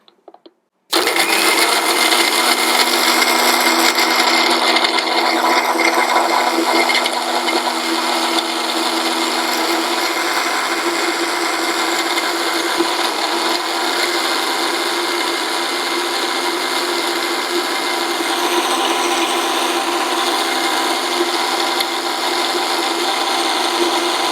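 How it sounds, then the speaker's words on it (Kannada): A mixer grinder blending a milkshake whirs loudly and steadily after a brief quiet start, its motor pitch wavering slightly as the contents blend. "ಇದನ್ನು ನಾವು ಮಿಲ್ಕ್ ಶೇಕ್ನ ರೀತಿ ಮಿಕ್ಸಿ ಮಾಡ್ಕೊಳ್ಳೋಣ"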